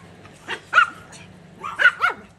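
A dog barks in two close pairs of sharp yips and barks, fairly near and moderately loud, over a low steady background hum with no talking.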